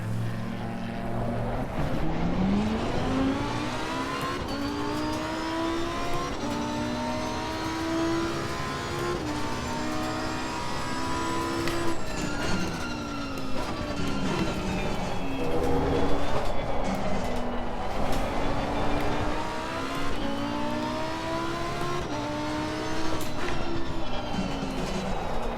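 Lamborghini Evo race car in Assetto Corsa Competizione at Laguna Seca, its engine note rising and falling steadily through gear changes, with a loud, continuous drone and no talk.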